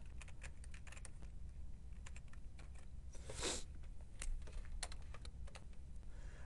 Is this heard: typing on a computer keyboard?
yes